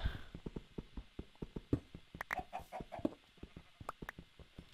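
Chickens clucking in Minecraft, a quick run of short, rhythmic clucks with a few sharper calls, fairly quiet.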